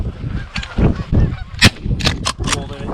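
A flock of wild geese honks during an Iowa goose hunt, with overlapping calls near and far. Several sharp, loud shotgun blasts crack through the honking and low voices murmur underneath.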